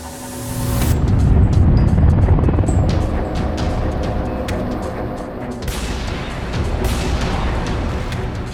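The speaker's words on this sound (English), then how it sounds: "Not far away is arguably the most iconic helicopter in the military," Military Huey helicopter on a base, a loud close rotor and turbine roar that swells and thumps, with a sharp whine briefly cutting in and out.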